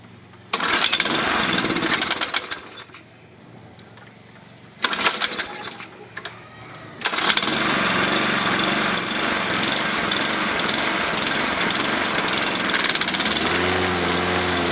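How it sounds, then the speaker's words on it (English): A Toro 20333 walk-behind lawn mower's small engine starts in bursts, cuts out briefly, then settles into a steady, loud, close running drone with the blade engaged. "the mower is now running and the blade engages as it should"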